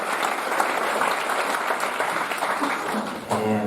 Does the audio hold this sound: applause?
yes